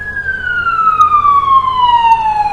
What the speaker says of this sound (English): We love maple syrup so much, we're going to turn on the sirens for it.